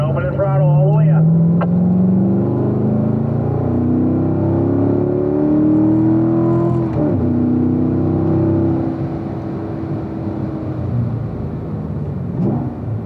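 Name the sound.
race car accelerating out of a corner on track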